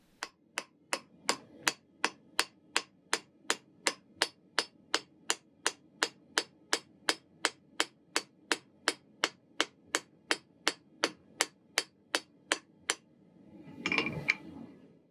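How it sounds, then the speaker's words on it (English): The round end of a hammer draws out a metal bar while forging a recurve hunting knife: about thirty sharp, evenly spaced ringing blows in a steady rhythm, close and clear, ending in a brief rough clatter. "Using the round end of my hammer, I will start by drawing out the piece of metal, moving systematically up and down the bar."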